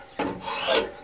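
A single quick stroke of a sharpening stone along a knife edge on a Wicked Edge sharpener, a close, short rasping scrape lasting about a second.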